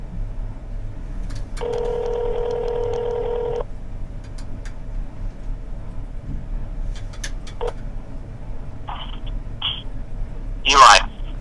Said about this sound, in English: let's call him via cell phone